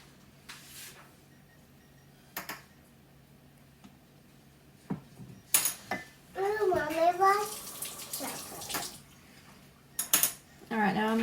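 Chocolate residue is rinsed out of a container at a kitchen sink: hollow clatters and knocks, then a short rush of water with rattling, and a brief voice in the middle.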